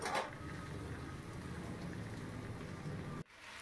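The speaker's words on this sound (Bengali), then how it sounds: "এইভাবে মশলাটাকে কষিয়ে নিতে হবে।" Spice paste with chili sautés in a pot for khichuri, giving a steady, soft bubbling sizzle that runs evenly before stopping abruptly near the end; no voices.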